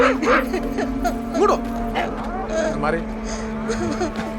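A dog barks and yips in short bursts amid excited voices and a steady engine drone.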